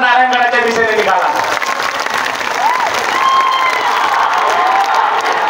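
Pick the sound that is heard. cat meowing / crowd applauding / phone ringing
crowd applauding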